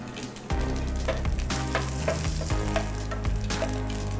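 Mustard seeds, urad dal and dried red chillies fry in hot oil for a tempering, a loud, dense sizzle that surges suddenly after a quieter start and keeps crackling and spitting close up, with no talk.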